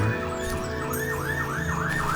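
An ambulance siren wails in the video game The First Tree, a loud repeating rising-and-falling tone cycling about every half second over a low ambient hum, with no talk.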